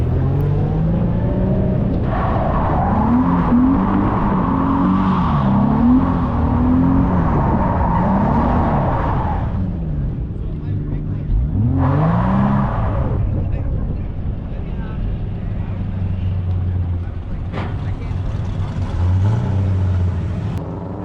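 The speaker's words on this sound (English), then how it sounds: "Turbo on his car sounds pretty good." Turbocharged drift cars at a drifting competition rev hard through repeated rising and falling engine sweeps. The engines are loud and close with brief lulls between bursts, and a lower steady engine drone follows.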